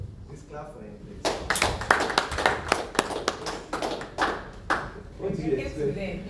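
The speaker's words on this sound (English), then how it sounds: "Please clap for him, please." An audience at a property sales masterclass claps in a burst of scattered, overlapping hand claps that swells and fades, with a voice speaking before and after.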